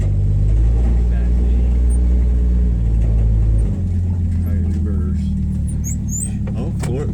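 A 1962 Rambler Classic's engine drones low and steady while the car is driven for the first time in 15 years, with people talking over it and a shift in engine tone partway through.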